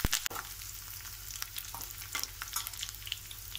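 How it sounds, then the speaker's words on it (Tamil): Mustard seeds, crushed garlic and curry leaves fry in hot oil for a green chilli pickle, a faint steady crackle and sizzle with scattered small pops and light stirring scrapes. "கடுகு நல்லா பொரிஞ்சு வரும்போது நம்ம பூண்டும் கருவேப்பிலையும் சேர்க்குறோம்."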